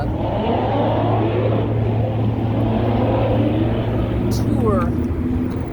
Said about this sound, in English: See some of the cars going around the track.